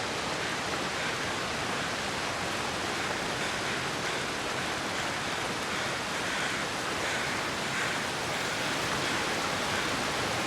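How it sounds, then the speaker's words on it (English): Roaring waterfall in the survival game The Long Dark, a dense, unbroken rush of falling water that fills the scene loudly and evenly from start to finish. "The waterfalls are very loud on this patch, sadly."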